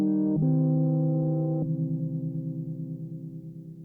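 A major chord played on a UDO DMNO synthesizer in unison mode holds steady with rich harmonics, then shifts to a lower sustained tone that slowly fades.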